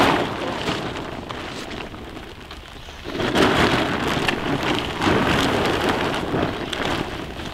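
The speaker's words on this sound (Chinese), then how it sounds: "要下雨了，来吧。下雨了，要往前走，行。" Heavy rain falls steadily outdoors, a dense continuous hiss of drops pattering on surfaces that swells louder partway through, close and enveloping with no voices.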